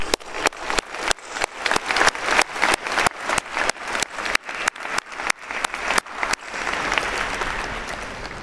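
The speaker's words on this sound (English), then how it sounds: "Please join me in a well-deserved round of applause for these" A crowd applauds at a graduation diploma and awards ceremony, opening with a run of sharp, distinct claps that thicken into a loud, continuous wash of applause.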